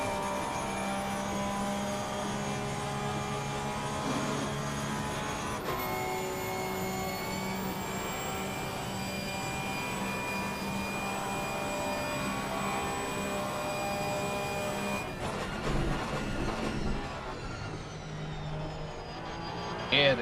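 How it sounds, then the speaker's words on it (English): GT3 race car in a sim racing game at Spa, its engine whining steadily with a downshift and engine-braking drop midway, loud and continuous with a high sustained tone and faint talk underneath. "Here the gearbox screaming down the gears, the engine braking takes effect then"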